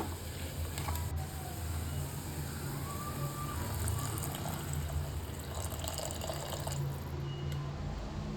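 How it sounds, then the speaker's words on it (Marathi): A steady broadband wash of half a glass of water pouring into a pan of pea and potato curry runs continuously at a close, even level with low mechanical hum beneath. "आता याच्यामध्ये टाकणार आहे आपण अर्धा ग्लास पाणी."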